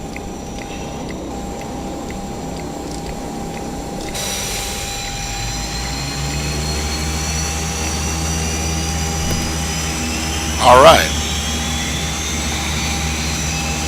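A Carenado EMB120 turboprop engine spools up in a flight simulator, a rising whine and steady hum building over several seconds, with a brief voice near the end.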